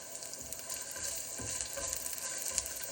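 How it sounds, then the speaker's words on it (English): Spinach idli fries in a little oil in a pan, with a steady, soft sizzle and faint bubbling crackle that runs without a break up close. "you can put a lid on it and make it fry."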